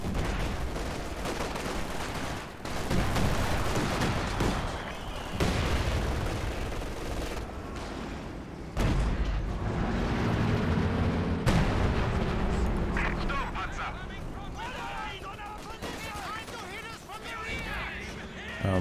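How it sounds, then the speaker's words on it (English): Machine gun fire from LMG squads in a Company of Heroes 2 2v2 match, dense overlapping bursts and booming explosions churning continuously under a commentator's voice. "Machine gun, there's no way you should sit up there in front of 3 LMG squads."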